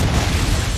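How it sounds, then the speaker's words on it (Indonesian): A wagon loaded with explosives blows up in a western film, a single loud, dense boom that fills the whole moment. "tiba-tiba kereta yang dibawa Marshall Bass meledak"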